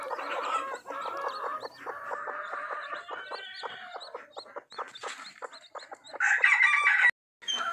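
Hens and a rooster around a clutch of hatching eggs on a Kerala poultry farm cluck steadily and close by, with a rooster's crow rising near the end.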